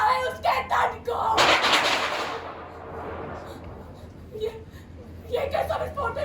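A stage-play explosion effect bursts loudly and then decays into a long rumble, preceded by raised theatrical voices and followed by more dialogue from the actors.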